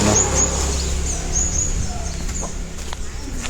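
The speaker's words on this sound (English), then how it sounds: "I hear some birds" Outdoors in Goa during the monsoon, birds call and a chicken clucks in short high chirps and clucks over a steady background rumble of wind or traffic.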